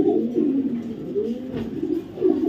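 A racing pigeon coos close by in low, rolling murmurs that repeat over a couple of seconds, with no talking.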